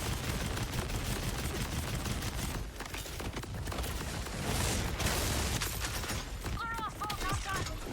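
Bombs going off in a Borderlands game during a boss fight, a dense, continuous roar of blasts and rapid gunfire layered over each other, loud and unbroken, with a player talking over the chaos.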